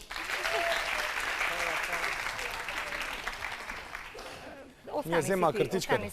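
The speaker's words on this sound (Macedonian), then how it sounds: "Дајте еден аплауз за Боби." An audience at a karaoke singing event in Štip breaks into sustained, loud applause for Bobi, dense clapping that slowly thins, followed by chuckles and voices talking over the end.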